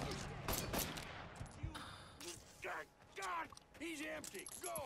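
Gunfire from a big gun in Mafia III, heard as rapid bursts of shots in the first couple of seconds, with someone talking over and after them.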